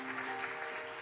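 Applause from the congregation at a Sunday church service during a certificate-of-appointment ceremony: a steady wash of clapping hands sustained throughout, fairly even in level.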